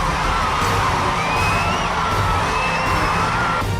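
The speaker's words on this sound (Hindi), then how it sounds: "ट्रेलर देखकर फैंस ने इतना शोर मचाया कि ट्रेलर की आवाज ही दब गई।" Fans in a cinema hall scream, whoop and cheer at a film trailer, a dense, loud, continuous crowd roar with high shrieks rising above it throughout.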